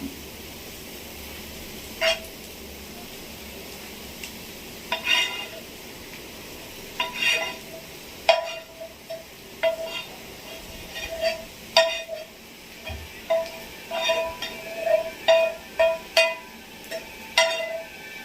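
A utensil stirs ground masala into ivy gourd and onions frying in a pan, making repeated close scraping clinks and knocks in irregular bursts over a soft sizzle, growing busier toward the end.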